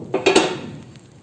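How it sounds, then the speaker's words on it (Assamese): A metal lid lifted off a kadai heated for baking cake, giving a few short clanks and scrapes of metal on metal, close and fairly loud, fading into quiet. "এতিয়া গৰম হ'বলৈ দিয়া কেৰাহীটোৰ ঢাকনিখন উঠাই দিম"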